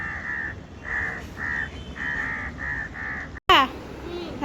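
A string of harsh crow caws rings out close by in quick succession, then a short break and a louder, sharper burst of calling.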